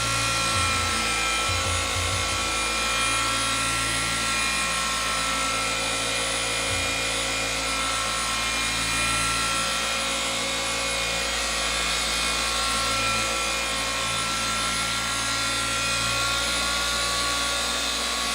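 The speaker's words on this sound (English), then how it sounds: "I could just ramp the tool up to 6 and start my paint correction process or the polishing." A Rupes polishing machine runs at speed 6 during paint correction on car paintwork, a loud, steady, close mechanical whir that holds constant throughout.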